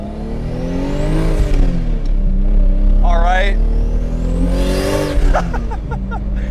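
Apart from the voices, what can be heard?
turbocharged car engine revving, open wastegate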